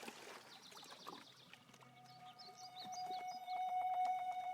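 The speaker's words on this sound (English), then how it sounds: "Little bird chirping." A small bird chirps in the Rusty Lake: Paradise video game, brief high twittering calls over a quiet ambient backdrop, with a sustained tone rising in the second half.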